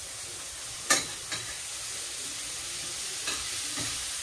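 Mushrooms and eggs frying in a pan while being stirred: a steady soft sizzle with a few sharp scrapes and clicks of the utensil against the pan.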